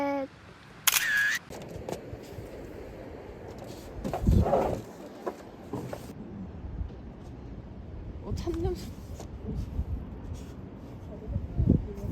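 A camera shutter clicks once, sharp and close, early on during a trip to Gangneung, followed by quiet outdoor ambience with brief rustles and faint voices.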